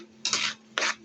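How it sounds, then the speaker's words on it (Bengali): Spices, including turmeric and chili powder, are stirred in a pan for a bottle gourd leaf bhorta, giving two short, close scraping strokes against the pan. "তো এটা আমি নাড়াচাড়া করতে থাকবো এভাবে।"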